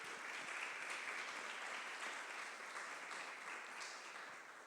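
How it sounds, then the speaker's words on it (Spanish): Sustained audience applause at a film industry panel event, SANFIC Industria in Chile, a dense steady wash of many hands clapping at even loudness for several seconds, fading slightly at the end, with no voices over it. "un fuerte aplauso para ti"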